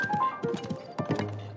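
Horse hooves clip-clopping at a steady trot in Zelda: Tears of the Kingdom, a rhythmic series of close hoofbeats, with music or other game sounds underneath.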